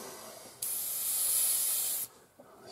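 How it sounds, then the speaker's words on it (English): An airbrush sprays thinned paint onto the fuselage of a 1/48 Airfix Supermarine Spitfire Mk1a model, giving a steady close hiss of about a second and a half that cuts off sharply against quiet room noise. "airbrush going."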